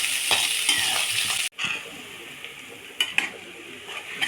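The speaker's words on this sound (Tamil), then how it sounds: "இப்போ வெங்காயத்தை போட்டு வெங்காயம் நல்லா வதங்கணும்" Onions sautéing in plenty of oil in a pan for chicken chukka, a bright continuous sizzle close up, broken by a brief pause and then scraping stir strokes and clinks of a utensil against the pan.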